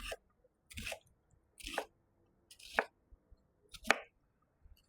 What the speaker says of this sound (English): And this is how I kind of chop the onion.